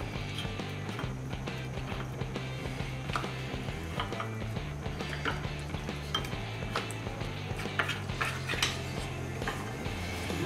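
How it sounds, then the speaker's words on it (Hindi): Three tablespoons of maida flour and a pinch of salt are stirred into a paste in a bowl, giving steady rhythmic clinking and tapping close by, with no talking. "ये मैदा तीन टेबलस्पून हमने लिया है, इसमें थोड़ा सा नमक डालेंगे और इसका पेस्ट बना के लेंगे"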